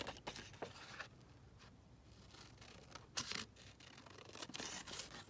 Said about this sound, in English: so just quickly cut these ones down